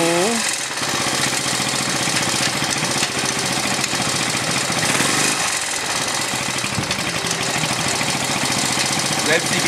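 A Moto Morini 125 H motorcycle engine runs loud and close with a rough, rapid pulsing beat, its pitch rising and dropping as gears are shifted, with a voice talking over it at times.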